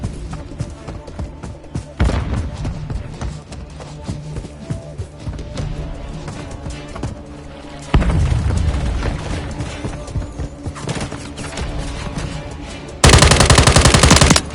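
Rapid automatic gunfire and bursts from a Modern Warfare 3 multiplayer match, loud and sustained, with thumps and a heavy sustained burst near the end and occasional voice callouts underneath.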